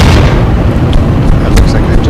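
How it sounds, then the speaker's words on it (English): Starship explosion in a space combat video game, a loud continuous low rumbling boom with crackling bursts, filling the whole stretch without pause. "That looks like they've just done a classic Starship explosions"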